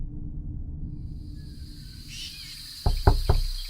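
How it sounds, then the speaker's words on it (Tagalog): Three firm knocks on a wooden door, close and quick after a quiet stretch of low hum and faint hissing ambience. "may narinig naman kaming katok mula sa pinto at boses ng babae"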